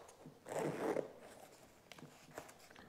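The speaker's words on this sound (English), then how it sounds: "I'm going to open it up here with a zipper." A short zipper pull on a bicycle saddle bag rasps open over about half a second, followed by faint handling clicks and rustles.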